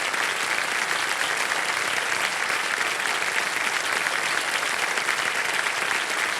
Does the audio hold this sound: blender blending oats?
no